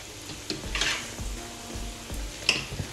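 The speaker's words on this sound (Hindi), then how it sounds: "माय नूडल्स आर रेडी मैंने अच्छे से मिक्स कर लूँगी" Cooked noodles stirred and tossed in a hot pan, a steady close sizzle with soft scraping strokes and a few utensil taps, no talking.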